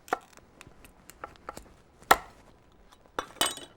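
A knife cuts and cracks through lobster shell with sparse, irregular sharp taps and snaps, close and fairly quiet, with a louder crack midway and a cluster of snaps at the end.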